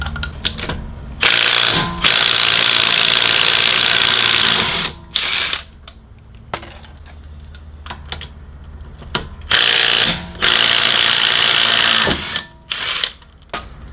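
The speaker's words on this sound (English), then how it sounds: "And you'll need an impact wrench." A Makita 18-volt cordless impact wrench removing lug nuts from a car wheel during a tire puncture repair, firing in several loud rattling bursts of a second or two, separated by quieter pauses and clinks.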